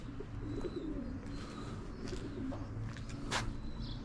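Pigeons cooing softly nearby, low repeated coos with a few chirps over a quiet outdoor background.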